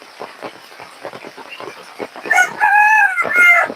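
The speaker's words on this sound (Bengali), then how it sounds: "অনেকগুলো মুরগি আছে কিন্তু বন্ধুরা" Hens cluck softly in short bursts, then a rooster crows loudly nearby in a long, wavering call, followed by another crow.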